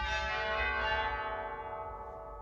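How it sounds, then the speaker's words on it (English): Chimes of a church pipe organ at St. John's ring out in one loud, rich bell-like strike that decays slowly with shimmering overtones. "This organ has an entire set of chimes."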